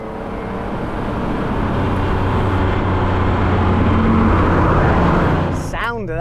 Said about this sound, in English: Sound of that 930